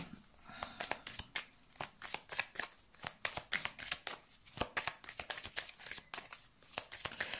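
A deck of tarot cards being shuffled for a reading, with rapid, steady riffling and slapping bursts that repeat close by and without a break, no voice.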